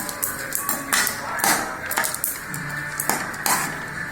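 Repeated scraping taps of a spatula stirring and sautéing kurma ingredients in a pan, irregular and close, with a faint sizzle underneath.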